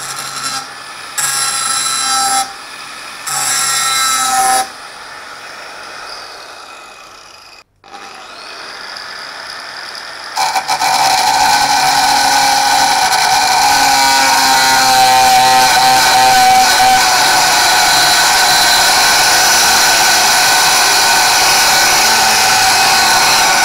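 A Makita M9502R angle grinder cuts aluminium clamped tightly to a workbench. Several short loud bursts give way to a long, steady, piercing cutting whine that runs close and continuous to the end.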